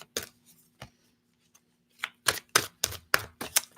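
Tarot cards being shuffled: crisp riffling bursts come in a quick irregular run, sparse at first and then denser and louder near the end, close with no talk.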